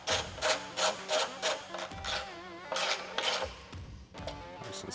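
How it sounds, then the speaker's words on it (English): A 10mm wrench ratchets bolts tight onto a Harley M8 Softail fairing bracket, with quick repeated clicking strokes in bursts, close up, then a few scraping metal sounds. "you'll take your 10mm and tighten these down"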